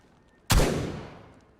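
A single loud shotgun blast of buckshot from the survival video game DayZ on a winter map, a sharp close crack with a booming tail that fades over about a second.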